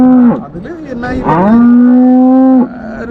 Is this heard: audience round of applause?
no